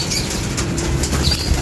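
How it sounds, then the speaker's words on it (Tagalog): Racing pigeons take off from a loft in fair weather, a brief burst of fluttering wingbeats with a few faint chirps, close by and unaccompanied by talk. "Papawala tayo ng ibon"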